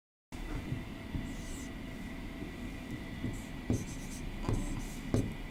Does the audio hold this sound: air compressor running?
no